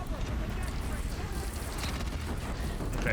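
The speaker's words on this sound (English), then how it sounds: "The other cannons are shooting at this thing too, which is good." A rumbling barrage of cannon fire in Horizon Zero Dawn, dense booms blending into a continuous heavy roar throughout.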